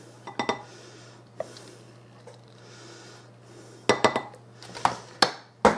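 A 9x13 metal baking pan handled in a kitchen, giving several sharp clanks and clinks in clusters near the start and end, with a quiet stretch between and no talk.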